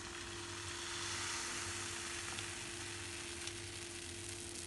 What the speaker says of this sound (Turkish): Şimdi hazırladığım krep karışımını tavaya döküyorum.